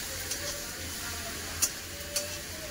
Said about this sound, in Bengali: তার ভালো করে মশলা ভালো করে কষে নেবো।